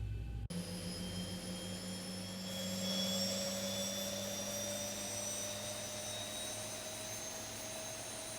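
A Boeing 737-800 jet engine spools up in the X-Plane 12 flight simulator, a steady turbine roar with rising whine tones climbing in pitch after a sharp click, growing slightly louder and holding steady with no talking.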